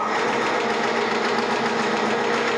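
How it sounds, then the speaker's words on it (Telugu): An HSW embroidery machine runs with a steady, loud, continuous mechanical whir and rapid stitching rattle, unbroken and alone throughout. "సో నేను రన్నింగ్ కోసం మీకోసం మిషన్ స్టార్ట్ చేస్తున్నానండి."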